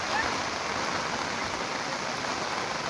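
Steady, heavy monsoon rain in Donivade village, Konkan, hisses without a break, a dense wash of falling water with no other sounds standing out.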